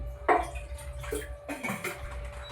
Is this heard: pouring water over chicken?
yes